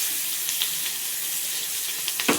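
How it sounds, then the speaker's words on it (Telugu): Green chilies fry in hot oil with turmeric in a pan, a close, steady bright sizzle with small pops and crackles throughout and no talking. "ఇప్పుడు పచ్చిమిర్చి అనేది మంచిగా వేగనిద్దాం"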